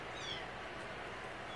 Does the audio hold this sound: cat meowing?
yes